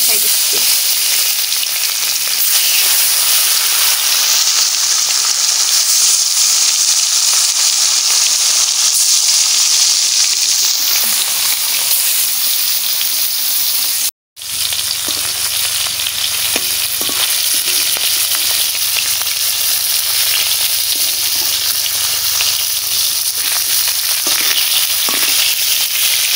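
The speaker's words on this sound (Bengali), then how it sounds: "মাছ ভাজা বসাই দিচ্ছি" Rohu fish pieces rubbed with turmeric and salt fry in very hot oil, giving a loud, continuous crackling sizzle that stays steady throughout, broken only by one brief silent gap midway.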